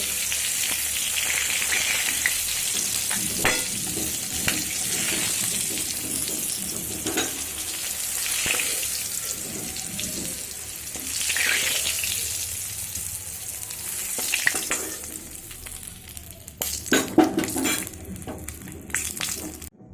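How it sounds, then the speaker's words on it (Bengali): Pointed gourd (potol) pieces fry in oil over a medium flame, a continuous close sizzle and crackle with occasional stirring scrapes and clinks, growing busier with louder utensil knocks toward the end; no talking. "মিডিয়াম ফ্লেম করে পটলগুলো ভেজে নেব।"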